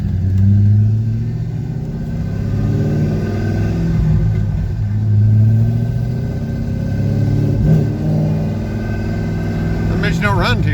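C5 Corvette with a T56 transmission driving out of town, a deep engine rumble rising and falling through gear changes, heard from inside the car with someone talking over it.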